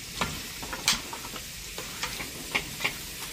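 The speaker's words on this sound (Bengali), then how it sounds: "দেখতে পাচ্ছ সোনা মাংস কষাচ্ছে এখন, আর সব ভাজাভাজি রেডি।" Meat being sautéed in a pan for a birthday party meal, with a soft steady sizzle broken by scattered sharp clicks and scrapes of stirring, close and fairly quiet, no voices.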